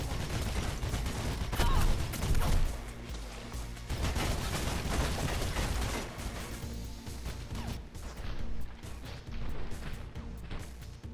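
Rapid bursts of gunfire in the video game Mirror's Edge fill the clip, dense crackling volleys that ease slightly then resume, loud and close with no voices.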